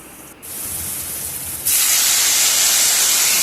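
Water poured into a simmering fish and potato curry hisses and sizzles steadily, then surges into a louder, brighter rushing spray partway through, close and continuous with no talking.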